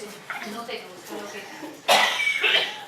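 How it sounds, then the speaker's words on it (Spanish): Several coughs from an audience at a talk ring out, scattered and fairly close, with a louder burst of coughing near the end. "Oigo muchas toses."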